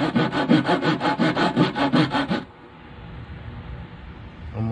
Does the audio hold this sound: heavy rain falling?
no